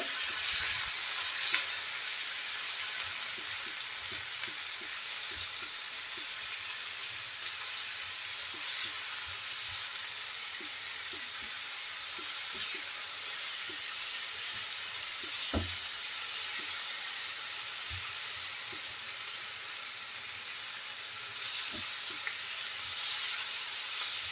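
Cumin and turmeric powder frying in a pan as they are stirred together for a bitter gourd and tomato bhaji: a steady, close sizzle runs throughout, with occasional soft knocks and scrapes of the spoon.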